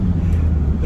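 A Zill 520 bunk bed motorhome pulling away from traffic lights, a loud, steady low engine drone with road rumble heard from inside the cabin, without talking.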